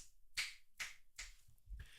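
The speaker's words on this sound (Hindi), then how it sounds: "हम इसके इस साइड पर चुटकी बजाते हैं" Four crisp finger snaps land in an even rhythm close beside a Shure MV7 microphone, each one short and bright, with quiet pauses between them.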